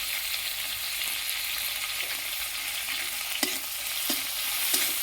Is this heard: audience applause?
no